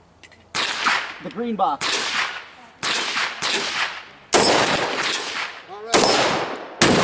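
Rapid shots from an FN SCAR rifle ring off steel plates 15 yards out, sharp cracks and metallic clangs coming in several quick bursts with short gaps between them, with brief talk mixed in.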